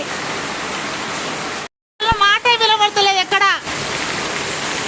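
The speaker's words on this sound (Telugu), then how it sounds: "ఎంత పెద్ద వర్షం చూడండి చాలా పెద్ద వర్షం" Heavy rain pours in a loud, steady wash close by, and a voice speaks over it for a couple of seconds after a brief dropout.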